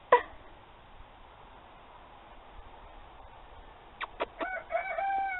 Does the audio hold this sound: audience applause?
no